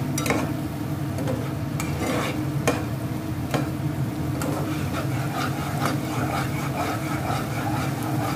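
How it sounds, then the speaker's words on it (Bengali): A spoon stirs and scrapes spiced yogurt masala with kasuri methi in a hot pan, steady sizzling broken by regular scraping strokes and occasional sharp clacks against the metal. "কসুরি মেথি দিয়ে আবারও কিছু সময় ভাজা করছি।"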